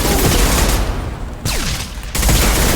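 Rapid rifle gunfire from Mass Effect 2 blazes in dense, loud bursts, pausing briefly in the middle before the heavy automatic fire resumes.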